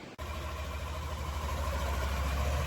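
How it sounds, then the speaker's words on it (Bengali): A motorbike engine runs steadily at idle, a continuous low rumble that starts right after a brief gap at the beginning and holds at an even level throughout, with no talking. "এই যে পরীর বাবা বাইক নিয়ে বেরিয়ে পড়েছে"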